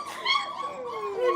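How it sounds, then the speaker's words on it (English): A small puppy whimpers and yips in a series of thin, rising and falling high-pitched cries, close and fairly loud, with brief gaps between calls. "Is that a puppy?"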